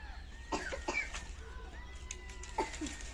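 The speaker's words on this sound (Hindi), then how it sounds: "कबूतरों ने जी, कबूतर वाले भाई हैं, उन्होंने किया हुआ है शोर" Birds coo and call in short, scattered bursts over a quiet background, a few soft throaty notes spaced irregularly.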